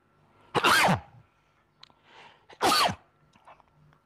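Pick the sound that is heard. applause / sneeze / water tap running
sneeze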